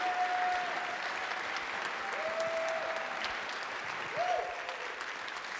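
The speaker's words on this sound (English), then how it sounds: "Can we have a big round of applause for our third grade Bible class?" A church congregation applauds steadily for a third grade Bible class, a broad, even wash of clapping from a large crowd that fills the space, with a few soft tonal notes sounding over it.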